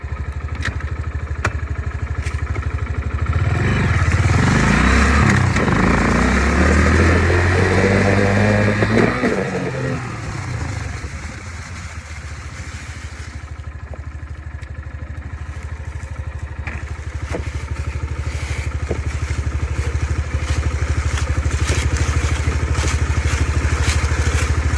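Dirt bike engine revving loudly while riding, close and rising through gear changes, then dropping to a lower idle-like burble before building again, with steady mechanical clatter and no talk.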